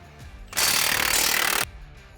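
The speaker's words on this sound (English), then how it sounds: "we need to remove the two 21mm bolts that hold this to the spindle" Loud, steady mechanical rattle of a power tool backing out the two 21mm brake caliper bolts on a C8 Corvette Z06, one continuous burst of about a second between quieter moments.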